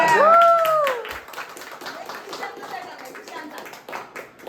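At a Diwali terrace party, a brief high whistle-like call is followed by a family's scattered clapping and light applause, with voices chattering throughout.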